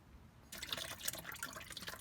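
Coolant drains from a BMW E30 radiator, pouring in a steady trickling, splashing stream that starts suddenly and continues close and moderately loud.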